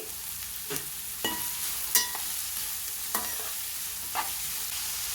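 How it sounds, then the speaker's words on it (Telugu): Onion pieces frying with green chillies in a pan, a steady sizzle with a few sharp stirring scrapes scattered throughout. "పచ్చిమిర్చి వేగినాయండి ఇప్పుడు ఉల్లిపా ముక్కలు వేసుకోవాలి"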